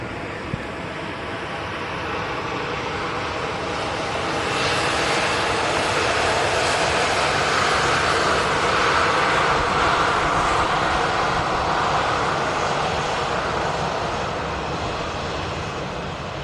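An EasyJet airliner taxiing at Manchester Airport gives a loud, steady jet engine roar that swells slightly and holds for the whole stretch, with no voices.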